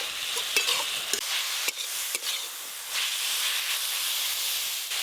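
Potatoes and red amaranth greens being stirred in a hot pan, a steady hissing sizzle broken by several scraping and knocking strokes of the spatula early on, close with no voices.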